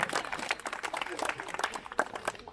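Applause from the audience at a volleyball award ceremony in Svaliava as a certificate is presented; dense, steady clapping fills the short stretch, with the crowd's voices mixed underneath.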